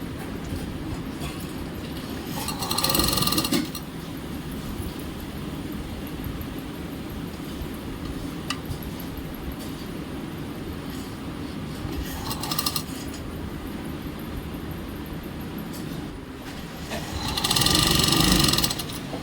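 A sewing machine stitches a frill strip onto a curtain, its motor humming and needle chattering in a steady whir, with louder bursts of fast stitching at the start, middle and end, close and without talk.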